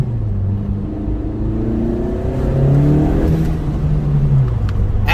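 A boosted car with a stock clutch accelerates hard, its engine rising in pitch through a gear and briefly spinning the wheels, loud and close with no talk.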